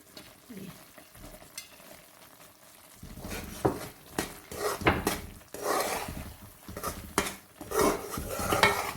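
Semolina halwa with nuts is stirred and roasted in a pan, a spoon scraping and clinking against the metal in irregular strokes over a soft sizzle, near and moderately loud after a quieter start.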